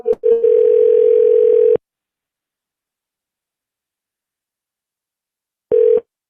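Loud telephone tones during an outgoing call: a steady tone lasting about a second and a half, a long silence, then a short repeat of the tone alone.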